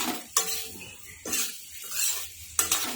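A utensil stirs spiced dry potatoes in a pan, with a few sharp scraping clinks of metal against the pan over a faint sizzle, close and without talk.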